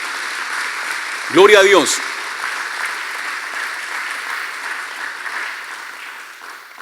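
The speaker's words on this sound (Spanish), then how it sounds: "¿Por qué no le damos un fuerte aplauso al Señor por eso?" A church congregation applauds steadily for several seconds, a dense wash of clapping that slowly fades, with a voice calling out briefly over it near the start.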